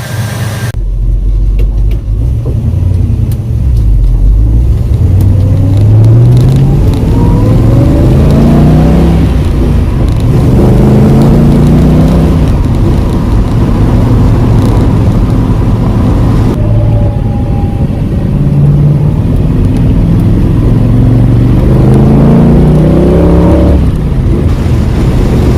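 A 1966 Ford Mustang driving, its engine loud and close throughout with rising and falling revs as it accelerates and shifts, no voices over it.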